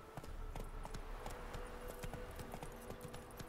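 Horse hooves clip-clopping at a steady trot in The Witcher 3 video game, a continuous rhythmic patter of hoofbeats over a dense, noisy game background.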